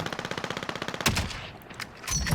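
A rapid machine gun burst from the Warzone video game, loud and close, a quick string of about fifteen evenly spaced shots ending in a sharp final crack, followed by fainter scattered gunfire.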